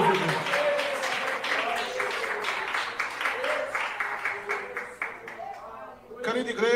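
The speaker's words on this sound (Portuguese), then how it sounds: "Palmas bem alegres para o Rei da Glória, Jesus Cristo." A church congregation claps steadily through a lively worship moment, with dense, continuous applause that stays loud and fairly even and swells again near the end, with some voices mixed in.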